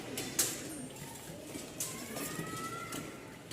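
An American fantail pigeon coos softly at a busy pigeon market in Mirpur-1, Dhaka, its low repeated calls set against a constant murmur of crowd and market noise.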